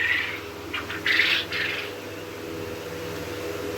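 Quail held in a hand gives a few short chirping calls, bright and close, clustered in the first two seconds over a steady low background hum, then quiet.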